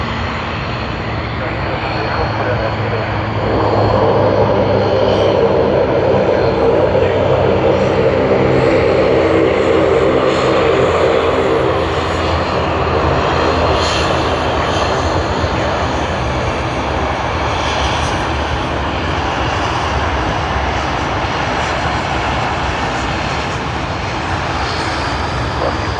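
Korean Air 402 at Sydney Airport, a loud sustained jet engine roar that swells after a few seconds and holds for the rest of the stretch, with a voice talking over it at times.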